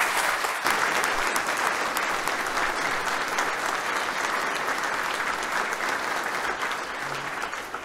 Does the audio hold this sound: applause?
yes